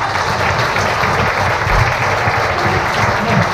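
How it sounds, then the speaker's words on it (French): Loud, steady audience applause at a hypnosis show, a dense unbroken wash of many hands clapping close up with a few low thumps, no talk standing out above it. "On l'applaudit bien fort, bien sûr."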